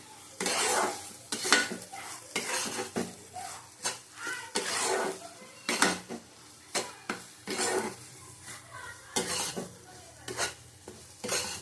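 Mashed taro root ground with shrimp fries in a pan, a spoon scraping and stirring it in irregular strokes over a soft, steady sizzle, close and fairly loud, with no voices.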